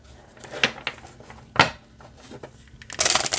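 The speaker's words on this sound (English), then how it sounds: "Let's see how it shuffles." Tarot cards from a Wild Lands Tarot deck being handled and shuffled nearby, with soft taps and flicks, then a quick riffle of cards at the end.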